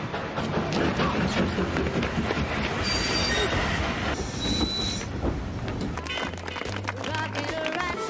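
A train rumbles past up close with a steady rolling roar, wheels squealing in brief high whines over rhythmic rail clatter.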